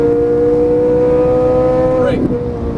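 Ferrari 458 Italia engine on track holding a steady high-pitched drone at sustained revs, loud and close, then briefly shifting in pitch near the end.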